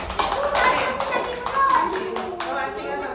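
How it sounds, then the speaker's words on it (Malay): Children in a classroom clap for a classmate, a near burst of quick claps mixed with children's voices that thins out after a couple of seconds. "Bagi tepuk tangan kepada Raif"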